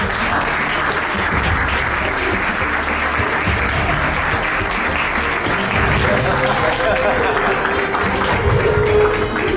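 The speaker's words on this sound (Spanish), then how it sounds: "vamos a recibir con un fuerte aplauso a la estrella de esta noche, Jonathan Trice" Large audience loudly applauding to welcome the star speaker onto the stage at an evening talk, dense continuous clapping and crowd noise sustained throughout, with voices mixed in beneath.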